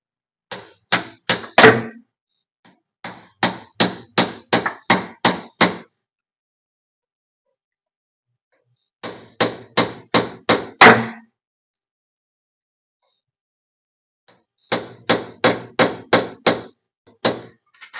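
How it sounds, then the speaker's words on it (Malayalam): Seal being hammered into the gear selector of a Maruti 800 using a socket, metallic taps struck in quick bursts of about six to nine, separated by silent pauses. "അതിനുശേഷം കറക്റ്റ് ഇവിടെ വെച്ചിട്ട് ചുറ്റി കൊണ്ട് ഹാമർ ചെയ്ത് വിടുക"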